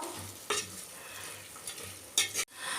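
Onion, tomato and green peas sauté in a pan with a soft sizzle, broken by a few brisk scraping strokes as a spoon stirs the mixture up close.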